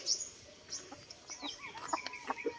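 A Rhode Island Red, Black Australorp or Golden Buff Orpington hen clucks in short, scattered bursts with a few higher chirps mixed in, fairly close and moderately loud against a quiet outdoor background.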